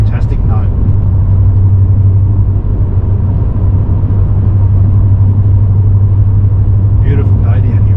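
A VS V8 ute with a single 2.5-inch catback exhaust cruises along a road on the Bellarine Peninsula, giving off a steady, deep engine rumble throughout, with brief voices at the start and near the end.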